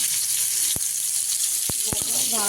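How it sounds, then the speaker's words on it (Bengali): Continuous hiss of fish frying in hot oil, with a few sharp clicks and a short beep partway through. "এই মাছ ভাজা বসিয়েছি"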